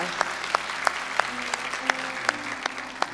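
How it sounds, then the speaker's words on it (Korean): A congregation at a Sunday church service in Irvine claps in a steady, evenly spaced rhythm, the sharp beats landing about three times a second over sustained background tones. "다시 한번 큰 박수로 목사님 축복하고"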